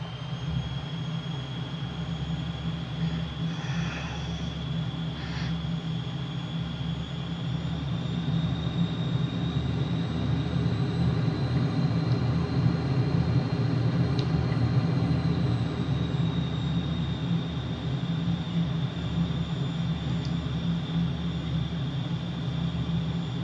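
A McDonnell Douglas F-15 Eagle jet on landing approach with gear down and full flaps in Microsoft Flight Simulator near Freeport, Bahamas: a loud, steady engine roar with a high whine that swells gently over a long stretch, no voices.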